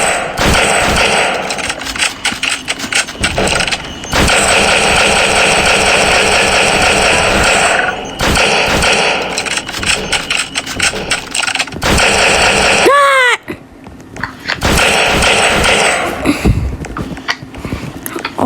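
Rapid automatic gunfire from a video game plays in dense, loud bursts with brief gaps and a falling whistle-like sweep near the end, while players talk over it.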